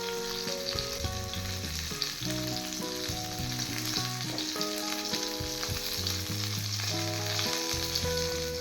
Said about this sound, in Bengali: মাছের এক সাইড 2 মিনিট ভেজে নিয়েছি। এবার আরেক সাইড ভেজে নেব।